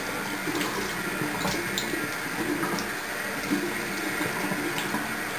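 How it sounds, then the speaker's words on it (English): Tap water runs into a sink to rinse makeup off a face, making a continuous, even hiss and splash with faint dribbling, no voices over it. "get some water going here again"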